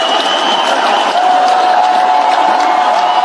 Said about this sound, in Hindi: जोरदार तालियां बजाएं।